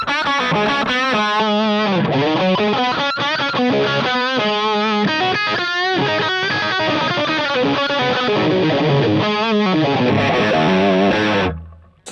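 Electric guitar played through a TONEX pedal loaded with a Tone Junkie capture of a Dumble amp, heard through a single speaker cab: loud, distorted chords and riffs ring out continuously with no talking, then cut off just before the end.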